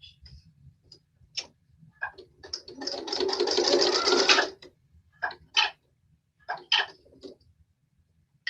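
A sewing machine runs one sustained burst of stitching along the edge of a small quilted project made from two fat quarters. Short bursts of stitching and clicks come before and after it, close and fairly loud, with no talk.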